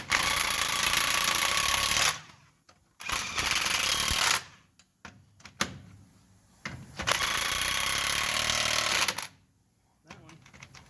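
Lug nuts are tightened on a 1968 Chevrolet Impala Fastback wheel in three loud, rattling bursts of a couple of seconds each, separated by quieter gaps where people talk nearby.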